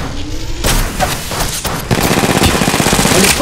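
Sustained automatic gunfire from the video game Apex Legends Mobile, a dense rapid burst pattern that intensifies and runs loud and continuous through most of the moment, with brief booming hits.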